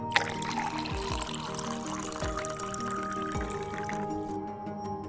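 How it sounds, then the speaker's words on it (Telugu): Water pours steadily into a pan of ridge gourd curry seasoned with chili powder, a continuous trickling splash heard up close with no voices. "ఇవి మునిగేంత వరకు మనం వాటర్ వేసుకోవాలి"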